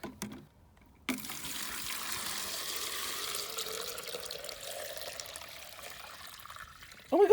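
Water pours from a cut plastic bottle into a small red bucket, a steady gurgling stream that starts abruptly after a brief knock and runs on evenly, with a clatter at the end.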